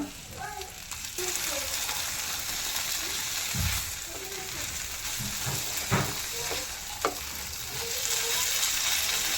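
A spoon scrapes and stirs papaya halwa in a pan over steady sizzling, with a few distinct knocks against the pan standing out from the close, continuous frying hiss.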